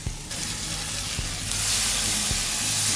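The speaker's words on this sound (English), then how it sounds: "Here it is sizzling away." Beef rump steak sizzles steadily on an Ozpig cooker, a dense close hiss that swells louder partway through, with a few faint low clicks underneath and no talking.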